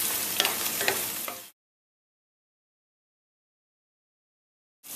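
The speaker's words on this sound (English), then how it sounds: "Now I'll cook the meat on 5 minutes on a high heat." Meat for Tibetan thukpa frying over high heat: a loud, close, steady sizzle with a few stirring clinks for about a second and a half, then sudden silence until the sizzle cuts back in at the end.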